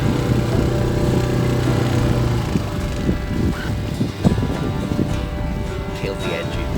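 A sailboat's engine runs steadily on a solo sailing trip, a low continuous drone with wind noise across the microphone, while a person talks over it.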